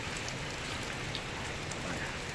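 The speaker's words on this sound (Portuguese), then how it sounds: "a chuva não para, galera, tá foda" Steady rain falls on a weekend in Brazil, a dense, even hiss of drops with no breaks, moderately loud and unaccompanied by any voice.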